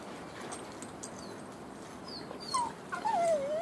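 A dog whimpers with thin, rising high-pitched whines near the end, wanting to bark at a woodpecker, over a quiet outdoor background with faint knocks.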